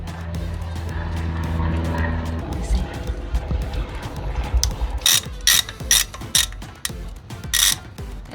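A ratchet removes 10mm brake bolts on a Jeep Wrangler with large tires, starting with low mechanical hum and moving into loud, rapid clicking ratchet bursts near the end.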